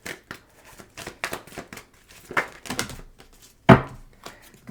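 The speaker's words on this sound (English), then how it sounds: "We're going to go ahead and start shuffling." Rapid riffling and snapping of playing cards being shuffled, in quick bursts with short pauses, ending in a sharp louder slap, close by.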